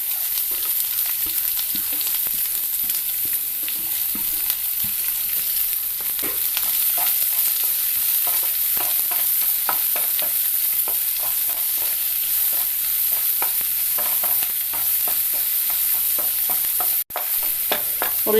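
Sliced shallots and curry leaves frying in a pan for a Kerala thoran, a dense steady hiss of sizzling oil with frequent scraping stir strokes, close and loud throughout, no talking.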